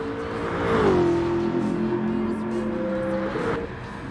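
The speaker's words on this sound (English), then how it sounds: "As I say, it does sound good, that car." A GT3 race car engine at Bathurst sings steadily, its pitch dipping as the driver lifts and shifts, then running level and strong, loud and continuous with no talk over it.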